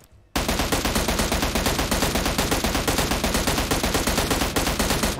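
Sustained rapid gunfire in PUBG on the Erangel map, a dense stream of loud, evenly spaced shots filling the whole stretch after a brief quiet start, with no talk over it.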